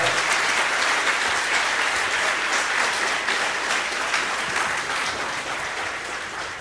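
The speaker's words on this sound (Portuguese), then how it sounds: "Quem crê, dê uma linda salva de palmas ao Senhor." A church congregation at a celebration service gives a long, loud round of applause to the Lord, a dense unbroken wash of clapping that fades slightly toward the end.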